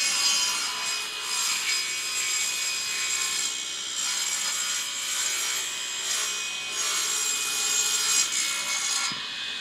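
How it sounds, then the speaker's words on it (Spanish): Circular saw cutting wood in a furniture workshop makes a continuous, bright, rasping whine that holds steady at close range with slight swells in level and no talk. "Luego hacemos el corte en circular, que se llama circular, de esta forma."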